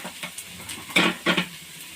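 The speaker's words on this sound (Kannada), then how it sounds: "ಈರುಳ್ಳಿ ಸ್ವಲ್ಪ ಚೆನ್ನಾಗಿ ಫ್ರೈ ಆಗಿ ಎಣ್ಣೆ ಅಂಶ ಬಿಡೋ ಗಂಟ ಫ್ರೈ ಮಾಡ್ಕೋಬೇಕು" Onions frying in oil in a pan for a village-style chicken curry, heard as a brief crackling sizzle with two louder scraping bursts from stirring, close by and without speech.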